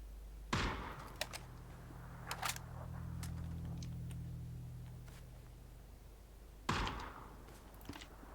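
Sharp gunshots from the battle royale game PUBG crack out in sparse bursts, with one loud shot near the start, scattered fainter pops in between, and another loud shot near the end over a low engine-like hum.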